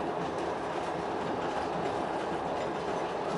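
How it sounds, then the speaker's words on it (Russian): A train passes close by, heard from inside a moving passenger train. It makes a steady, dense rushing roar with faint rhythmic clatter throughout, and no voices are heard. "Ну и поезд проехал."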